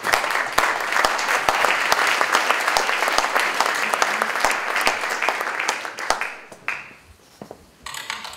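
Audience at a conference applauding as speakers are welcomed to the stage, a dense, steady burst of clapping with sharp individual claps standing out, fading away toward the end with a few scattered claps after.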